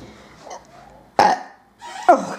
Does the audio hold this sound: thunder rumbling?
no